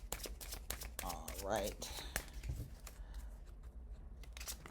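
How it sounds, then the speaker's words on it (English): A deck of tarot cards being shuffled and riffled by hand, giving a quick run of papery flutters and taps, close and moderately loud, with a brief spoken remark near the end. "I'll put another quick shuffle and rifle on these"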